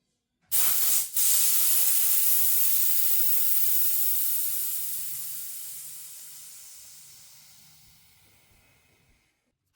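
A Cyclami AM6 mini air pump inflating, starting abruptly with a loud, bright hissing whir that dips briefly, then runs steadily before gradually fading and softening over several seconds until it cuts off.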